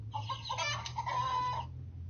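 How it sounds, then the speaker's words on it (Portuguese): Chicken clucking played as an app sound effect, a short run of close, clear clucks over a low steady hum, without speech. "Galinha,"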